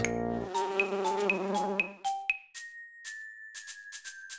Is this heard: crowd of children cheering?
no